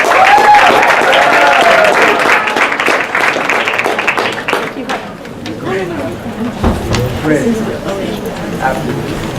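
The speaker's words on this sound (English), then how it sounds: "A round of applause." Applause from a crowd at a poetry slam, loud and dense at first, then thinning out into scattered claps with voices chattering over it.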